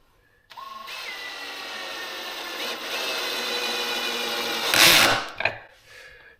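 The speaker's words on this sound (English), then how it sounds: "this morning I'm going to put in the pocket hole screws." A power drill drives pocket hole screws into glued-up wood joints for an end table, giving a loud, close, sustained whine that climbs as it runs and ends in a sharp burst and brief stop.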